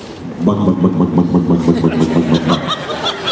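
A voice mimics a slow idling boat motor with a steady, rhythmic low putter of repeated pulses, sustained for a few seconds.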